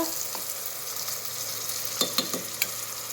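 Chopped garlic frying in a pan for a shutki and eggplant curry, a steady soft sizzle with a few sharper clicks and scrapes of stirring near the end, no voices.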